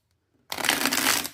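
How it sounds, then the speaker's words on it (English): A Labyrinth tarot deck with a smooth, matte to semi-gloss finish is riffled once, a dense papery shuffle lasting about a second after a quiet start, close and clear. "Shuffle good."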